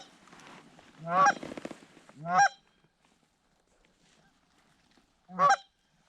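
Wild geese honking in flight toward waterfowl hunters, three loud separate honks with quiet gaps between them, fairly near and with no talk over them.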